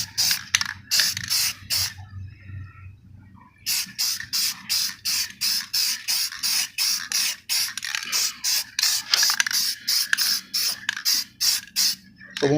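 A spray can mists primer onto Nissan Titan plastic trim in a long series of short, close hissing bursts with even rhythm, after a brief pause near the start.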